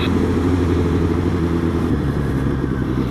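A motorcycle engine growls steadily while riding, a loud, close, continuous low rumble with no voices over it.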